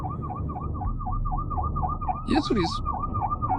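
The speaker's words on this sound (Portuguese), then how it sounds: "Vem uma ambulância." An ambulance siren in heavy traffic, a rapid wailing yelp cycling steadily and fairly close over a low engine rumble, with someone speaking briefly partway through.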